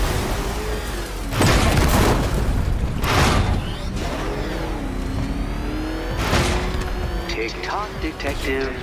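The Batmobile's engine revs and roars in Batman: Arkham Knight, with loud surging bursts and a rising, sweeping whine, heard alongside a talking voice and booming impacts.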